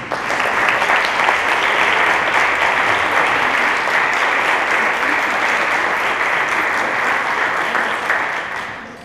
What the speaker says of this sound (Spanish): para que también les pido por favor un fuerte aplauso